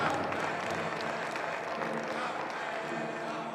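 A crowd applauds a veteran carrying the Pride colors with a color guard at a national university track and field championship, giving a steady, distant-sounding wash of clapping in a large venue under low murmuring.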